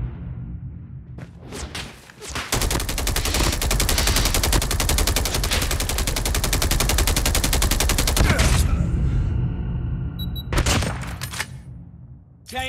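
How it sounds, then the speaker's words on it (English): Sustained gunfire in the mobile shooter Call of Duty Mobile, a dense, loud fusillade of rapid shots lasting several seconds, followed by a few scattered bursts and thuds, with no talking. "Get down! Sniper!"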